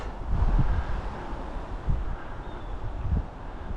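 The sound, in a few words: wind blowing outdoors on a trail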